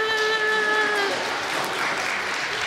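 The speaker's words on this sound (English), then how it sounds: "She doesn't know we're clapping for her" A congregation at a church Christmas pageant breaks into sustained, dense applause for a baby's first birthday, with a wavering tonal voice briefly riding over the clapping at the start.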